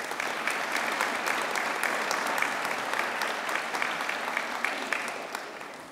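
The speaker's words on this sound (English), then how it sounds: "Let's give him a warm round of applause." Warm audience applause at a community library ribbon cutting, a sustained patter of many hands clapping at moderate distance that tapers off toward the end.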